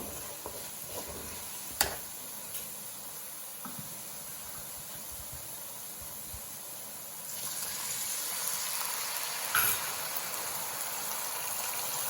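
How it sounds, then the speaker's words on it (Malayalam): Vinegar is poured into a hot pan of bilimbi pickle, and a steady hiss and sizzle swells louder partway through, with a few sharp clinks from the utensils. "ചൊറുക്ക് ഒഴിച്ചു കൊടുക്കാം കേട്ടോ, വിനാഗിരി"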